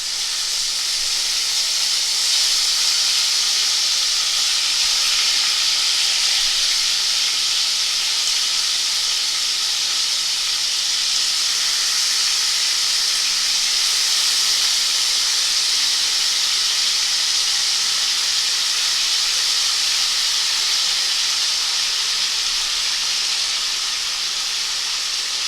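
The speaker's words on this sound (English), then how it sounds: "So we just add the meat to the oil." Pork frying in hot coconut oil, a loud, steady hiss of sizzling that holds evenly from start to finish with no pauses or voices.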